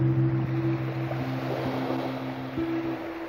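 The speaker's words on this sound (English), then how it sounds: "I just want to come and listen to the water." Water washes against the shore in a steady, loud rush with wind buffeting the microphone and a low engine drone holding underneath.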